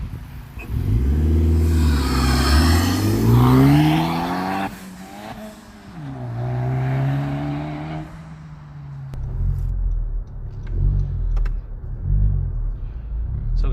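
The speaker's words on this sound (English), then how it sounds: "you join me inside the Honda Civic Type R FK2 and we're just gonna go for a quick blast" A Honda Civic Type R FK2 engine heard from inside the car while driving, building through the gears with rising revs, a gear change, then a steady rumble, loud and close.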